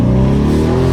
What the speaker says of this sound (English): Yeah guys, we're in this Lamborghini Urus. Let's go ahead and hear that sound.